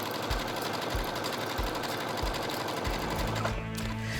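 A sewing machine stitches stretched elastic onto fabric to gather a sleeve, giving a steady close motor whir with rhythmic needle pulses that shift in tone near the end.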